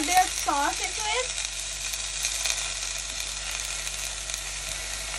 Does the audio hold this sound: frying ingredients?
yes